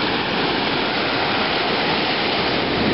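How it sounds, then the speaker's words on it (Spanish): Gentle surf washes in at Playa Guarapo, a deep, soft-sand Venezuelan beach, as a dense, continuous rushing roar with no distinct breaks or voices. "Playa de un oleaje suave, playa profunda, arena suave, unos 600 metros."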